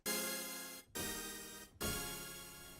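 Three sustained notes on a Korg Kronos synthesizer with a thick, wavering detuned tone, each starting sharply and slowly fading, played alone without voices.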